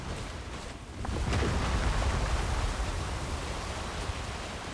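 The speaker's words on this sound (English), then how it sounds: "Avalanche." A broad, steady rumble of an avalanche in the video game Death Stranding swells up after a quieter first second and holds as a loud, dense roar of sliding snow and debris.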